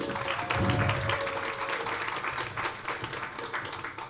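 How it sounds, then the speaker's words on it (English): Moderate audience applause for a panelist at an executive panel event, a continuous patter of clapping at fairly low level, with a brief high electronic tone near the start. "Round of applause, please."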